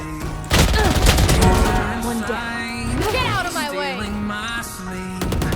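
Rapid gunfire from the Free Fire shooter game in first-person view, bursts of shots running throughout under loud, excited talking and game sounds.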